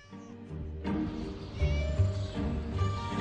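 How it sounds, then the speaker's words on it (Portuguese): A cat locked up in the video game Scary Teacher meows repeatedly, a series of plaintive, fairly close cries rising over a low game backdrop, with no talking. "Ela prendeu o gatinho."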